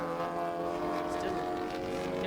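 A 2-litre club enduro racing car at Silverstone International gives a steady, gruff engine drone with strong harmonic tones, continuous and fairly loud throughout.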